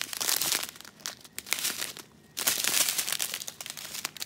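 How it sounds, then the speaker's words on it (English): Plastic packaging and wrapping crinkle and crackle continuously while a Train of Dreams item by Randal Spangler is unboxed, with a brief quiet pause midway. "Really sorry for the crackling noise."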